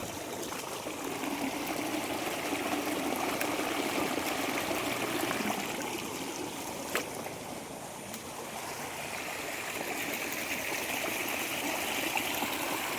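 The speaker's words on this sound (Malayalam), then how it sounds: "ഇതിപ്പോൾ ഈ പറമ്പിൽ നിന്ന് ഒഴുകി വരുന്ന വെള്ളമാണേ" Floodwater running in from a field makes a steady, soft rushing and trickling wash that stays continuous and fairly faint throughout, with no voices.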